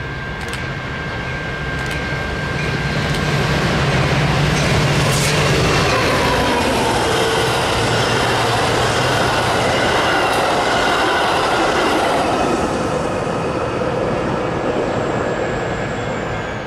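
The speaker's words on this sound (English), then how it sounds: "633 is running express on the middle track." An express commuter train runs through Arlington Heights station on the middle track during the evening rush, a loud, steady roar of rolling wheels and rail clatter that swells and then slowly fades.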